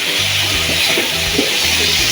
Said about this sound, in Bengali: মশলার সঙ্গে সবজিটা কষিয়ে নিচ্ছি।